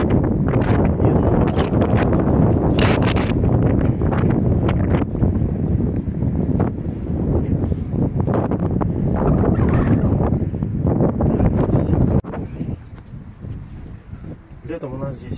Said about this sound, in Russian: Сегодня вот ветрено, пасмурно,